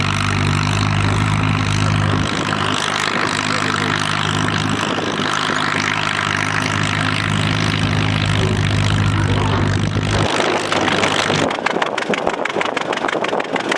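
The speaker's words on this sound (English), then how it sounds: "He's driving a 1947 Case D with a 2-bottom plow." A 1947 Case D tractor pulling a two-bottom plow at a spring plow day, its engine a loud, steady, close drone with a strong low rumble that stays constant, then changes character near the end.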